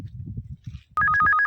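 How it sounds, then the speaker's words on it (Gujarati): A phone ringtone goes off abruptly in a home kitchen, a bright electronic melody of repeating tones that rings loud and close after quieter background murmuring. "પાછો વળી ફોન આવ્યો."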